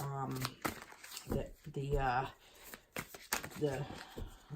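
Oracle cards are shuffled and handled in short papery riffles and flicks, scattered between stretches of someone talking close by.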